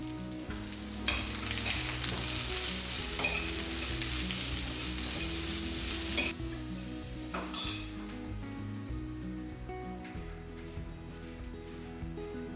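Chopped vegetables with onions, hing and salt sizzle and fry in a pan while being stirred, with occasional utensil scrapes and clinks against the pot over a steady frying hiss.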